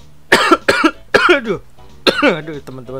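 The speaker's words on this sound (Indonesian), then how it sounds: "batuk" A person coughs a few times in quick, close bursts, then carries on talking in Indonesian.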